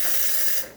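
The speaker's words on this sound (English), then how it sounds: "So let's test the steamer." A Bezzera espresso machine's steam wand, being tested after a full service, lets out a loud, steady hiss for a moment before it is shut off and fades quickly.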